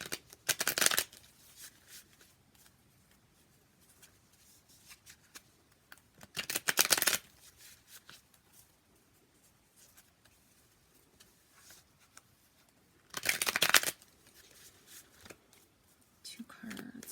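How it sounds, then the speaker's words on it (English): Tarot cards being shuffled and drawn during a love reading, heard as three loud bursts of brisk card riffling separated by long quiet stretches with soft handling rustles. "So let's draw some more cards to look into this."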